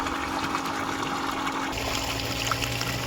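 Water runs steadily into a sump used to irrigate a silk (mulberry) farm, a continuous trickling and splashing flow with a low pump-like hum rising partway through.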